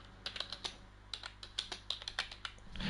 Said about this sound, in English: Stand by, everybody. Codger's got to type.